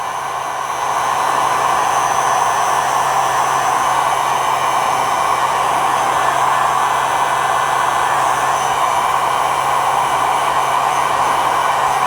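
A heat gun blows hot air onto a part of a small stock trailer, making a steady, loud, close airy roar that holds constant throughout.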